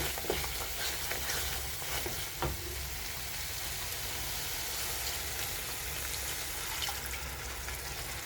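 Tomato and spice masala frying steadily in oil for a Bengali bhola fish curry, a dense continuous sizzle with a few soft stirring scrapes, close and even throughout.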